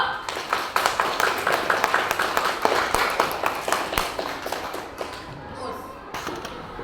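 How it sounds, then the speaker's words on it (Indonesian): Children in a classroom clap for a classmate, a fast, rhythmic burst of many hands that fades toward the end, with some voices mixed in. "beri tepuk tangan buat anak ibu"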